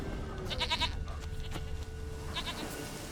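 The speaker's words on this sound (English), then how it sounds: "Here, goat." A goat in The Witcher 3 video game bleats in two quick wavering bursts over a low ambient background, moderately close.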